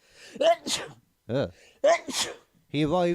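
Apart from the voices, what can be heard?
sneeze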